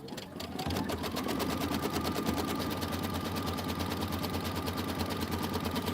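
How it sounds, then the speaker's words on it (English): An embroidery sewing machine runs background placement stitching, starting up and then needling in a fast, even, continuous rattle, loud and close with no talk. "This is background placement stitching."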